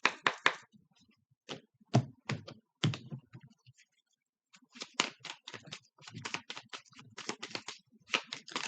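A deck of tarot cards shuffled by hand close up, with crisp papery slaps and clicks arriving in quick irregular bursts, a brief pause midway, then a denser run of snapping card sounds.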